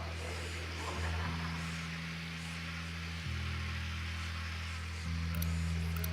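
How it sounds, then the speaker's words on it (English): A small drone in Ghost Recon Wildlands buzzes with a steady, close insect-like whine, its pitch stepping up twice as it speeds up, alone without talk. "Deploying drone."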